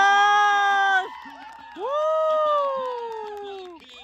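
Loud, excited shouting and cheering from a cricket crowd at a local Kasara Premier League match after a shot off a full toss: raised voices swell together, dip briefly, then surge again and slowly fade.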